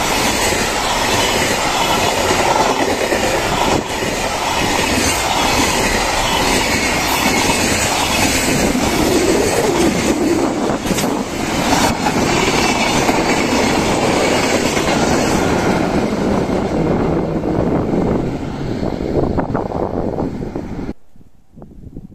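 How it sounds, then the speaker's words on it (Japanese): A freight train rumbles past loudly and steadily for about twenty seconds, wheels clattering and squealing, before the noise cuts off abruptly. "下り貨物列車。"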